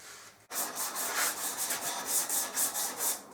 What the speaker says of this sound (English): what I'm doing now is just doing the final sanding